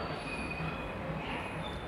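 The Gour Express, a passenger train from Malda to Sealdah, rolls steadily along the rails at night with a continuous loud rumble and thin high squeals from the wheels, no voices.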